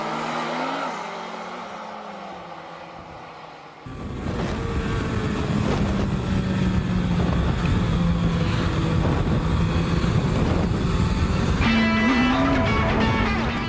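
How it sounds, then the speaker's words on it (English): A Suzuki Hayabusa motorcycle accelerates hard in third gear, its engine suddenly loud after a quieter opening, then holding a strong steady howl with heavy wind noise. "Just check out that third gear Buser Darky again."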